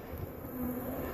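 Honey bees buzz at an opened hive in a low, steady drone that holds the same pitch throughout, faint and continuous, with no talk over it.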